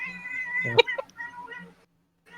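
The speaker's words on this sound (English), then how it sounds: "that's a vocal cat" Domestic cat meows loudly a couple of times in quick succession, close by, with someone talking briefly around the calls.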